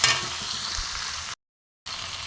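Tomato fries in a pan with a steady, close hiss, cut by a brief total silence before the sizzle resumes.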